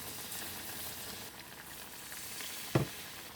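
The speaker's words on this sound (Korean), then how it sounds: "이제 가지를 튀겨줄 차례입니다." Eggplant deep-frying in a shallow amount of oil gives a close, steady hiss, with one brief dull knock near the end.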